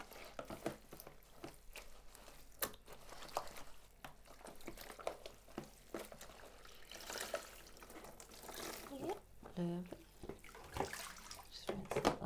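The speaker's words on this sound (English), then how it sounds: "Just rinse that last bit of soap out." Dyed fabric being rinsed of the last soap, with faint irregular splashing, trickling and dripping water at close range, and a brief tonal squeak partway through.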